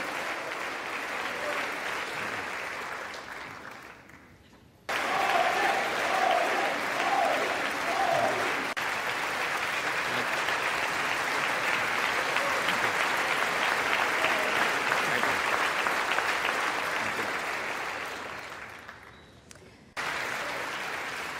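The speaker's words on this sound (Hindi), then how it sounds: "उनके भाषण के लिए तालियों की गड़गड़ाहट का आना" Thunderous, prolonged applause and a standing ovation for a speech by Indian Prime Minister Narendra Modi during his US visit, a large crowd clapping steadily in two long waves, loud and close, with a brief dip between them.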